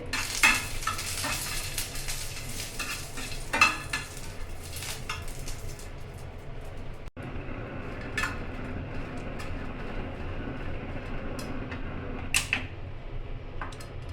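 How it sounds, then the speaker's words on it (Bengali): Dried red chillies fry in a little oil, a soft continuous sizzle beneath scattered clinks and scrapes of a utensil against the pan, fairly quiet and close, with a brief dropout midway. "মরিচ ভাজা"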